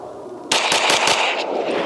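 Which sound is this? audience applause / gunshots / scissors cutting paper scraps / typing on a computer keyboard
gunshots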